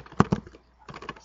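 Brief bursts of keystrokes on a computer keyboard, a couple of sharp taps followed by a quicker cluster of softer clicks after a short pause, close and fairly quiet.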